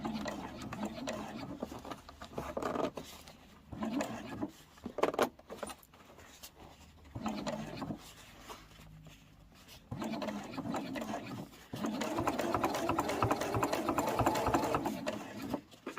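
Sewing machine stitching a seam on a cross-body sling bag, in short buzzing bursts with pauses between them, then a longer steady run at the end, quiet and close.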